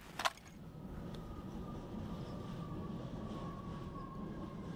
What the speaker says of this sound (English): we suggest you jump to a passing tram for a quick exit from the area